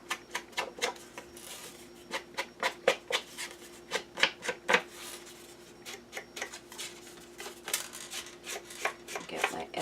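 Scissors or a blade trimming paper off the top of an altered box being covered, a close series of quick crisp snips and scrapes in an uneven rhythm over a faint steady hum, with no talking.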